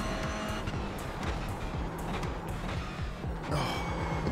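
A race car in the iRacing sim at Bathurst hits about 200 km/h on a straight, its engine a loud sustained wail with rapidly climbing harmonic sweeps through repeated gear changes and no talk.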